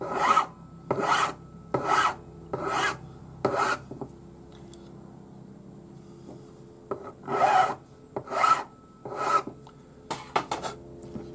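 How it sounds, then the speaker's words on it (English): A jeweller's hammer charm is filed flat with a number 2 cut flat hand file, giving five quick rasping strokes, a pause, then four more even strokes, close and crisp. "We'll file it in flat with our number 2 cut flat hand file."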